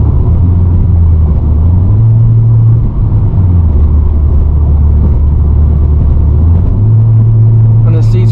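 A modded Acura TSX, front-wheel drive, rumbles steadily through a run of corners, its engine drone rising and falling in pitch with the throttle, continuous and close from inside the cabin.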